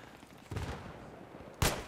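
Two booming M40A5 sniper rifle shots in Battlefield 3, a duller report followed by a sharper, louder crack near the end, heard alone against faint background noise.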